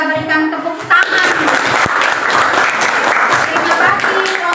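A classroom audience applauds a group's presentation, steady dense clapping sustained for several seconds after a brief spoken lead-in, with a voice audible at the start.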